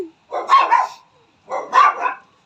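Two short bursts of barking from young puppies, close and fairly loud, with a brief pause between them and no talking.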